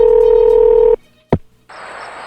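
A telephone being dialed for a call: a loud, steady two-tone dial tone cuts off, then a single brief click is followed by a softer, sustained ringing or line hiss, with no talk.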